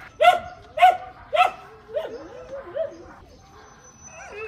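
Rescue dogs give three sharp, close barks in a quick run, followed by softer whimpering whines and yips that fade away.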